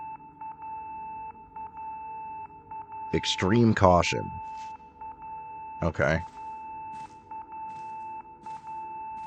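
Annoying beeping in the video game Project Zero: Mask of the Lunar Eclipse, a steady high electronic tone running continuously in the background while a voice speaks briefly over it twice.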